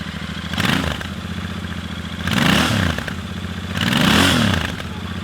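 A Royal Enfield Continental GT 650 fitted with Emgo slash cut exhaust pipes, baffles in, revs in three loud swelling bursts over a steady idle, each rise falling back to the low burble.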